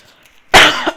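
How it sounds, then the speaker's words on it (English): A single sharp, loud cough bursts out after half a second of near quiet, then trails off with a small second catch of the throat. "Now I'm coughing"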